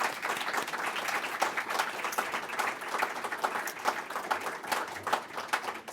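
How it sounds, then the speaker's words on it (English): An audience at a university startup venture competition gives a round of applause, a steady, full wash of many hands clapping close by with no break. "can we get a round of applause for all of our startups tonight"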